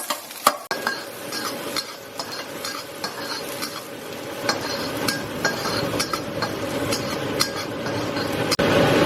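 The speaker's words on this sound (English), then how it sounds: "Once the oil's heated up, I'm gonna go in with my garlic, chilies, toss that through for a couple of minutes." Garlic and chilies sizzle steadily in hot oil and are tossed through the pan, with close stirring, scraping and occasional sharp clinks of a utensil against the pan.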